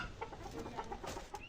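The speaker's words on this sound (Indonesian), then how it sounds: "Pagi harinya ayam berkokok membangunkannya." A rooster and chickens cluck and call in a farmyard, several short bursts repeating over a steady background, fairly close and moderately loud with no talking.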